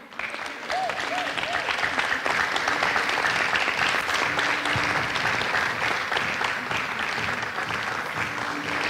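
Sustained applause from a conference audience at a literacy event in Africa, steady and dense clapping filling the whole stretch with no break.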